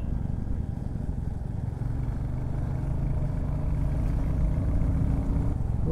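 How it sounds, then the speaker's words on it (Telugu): Dense highway traffic heard from a motorcycle: a constant close rumble of engines and idling vehicles, thick and unbroken, with no talk over it. "ఇట్లా ఘోరంగా ట్రాఫిక్ ఉంది"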